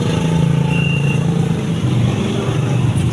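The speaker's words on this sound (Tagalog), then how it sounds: "Grabe ka traffic." Heavy road traffic near a cemetery in Surigao City makes a continuous drone of passing cars and motorcycles, steady and fairly close, with no speech.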